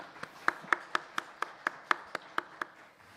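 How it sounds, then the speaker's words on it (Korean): A congregation at a Wednesday church service gives a short round of thanks applause, with about ten sharp, evenly spaced claps standing out over a soft patter of hands and fading after three seconds. "우리 많은 그들을 위해서 우리 함께 감사의 박수 한번 하겠습니다"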